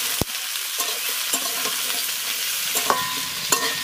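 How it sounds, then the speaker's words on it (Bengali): Paneer and squash fry in a pan with oil, a steady sizzle broken by sharp clacks and scrapes of a spatula stirring, and no one speaks. "একটু ভেজে নেব।"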